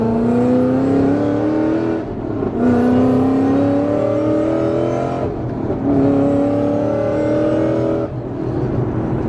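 Car engine revving hard through repeated gears on a bumpy road, pitch rising steadily in each gear and then dropping at every shift, loud and close throughout with no talk.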